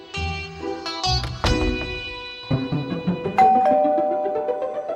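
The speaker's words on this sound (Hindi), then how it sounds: "बाप रे, कितनी घंटी बजती है इस घर में।" A doorbell chimes several times in quick succession, ringing tones overlapping and lingering, with no talking.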